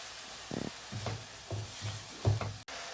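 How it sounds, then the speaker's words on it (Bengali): Spice masala cooked down with a little water in a pan for chicken ghugni, a quiet simmer broken by a run of rhythmic, low, grinding spatula strokes, close by and fairly soft. "মশলাটা একটু ভালো করে কষিয়ে নিই"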